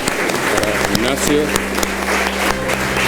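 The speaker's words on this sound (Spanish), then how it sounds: "pues un aplauso para" Audience applause at a book presentation in a hall, steady clapping throughout while a voice speaks over it and a low hum runs underneath.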